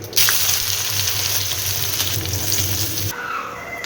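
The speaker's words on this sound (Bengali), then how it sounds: "প্রথমে উচ্ছে ভাজাটা করব।" Bitter gourd slices frying in mustard oil tempered with dried red chilli and mustard seeds, a loud, dense sizzle close by that runs continuously for about three seconds, then drops away abruptly to quieter kitchen sound.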